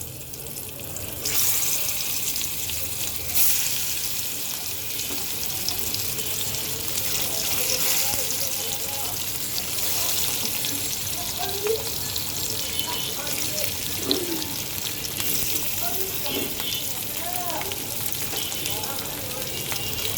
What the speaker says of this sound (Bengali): তো চলো মাছটাকে হালকা ভেজে নিই